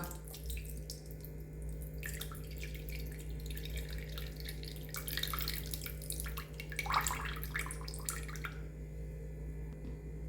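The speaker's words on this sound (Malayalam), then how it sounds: "അപ്പോൾ അത് ഞാൻ പുളിയുടെ വെള്ളം ഒഴിച്ച് കൊടുക്കുന്നുണ്ട് കേട്ടോ." A faint, steady trickle of tamarind water being poured into a pot, with splashy bursts midway, over a low constant background hum; no talking.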